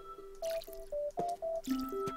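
Plants in the Zen Garden of Plants vs. Zombies get watered: a short run of bright chiming tones with soft splashy pours, quick and evenly spaced, fairly quiet and alone.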